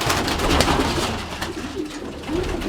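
A male pigeon coos in a low, throaty, repeated pattern, close by and alone, with a faint rustle of other birds behind it.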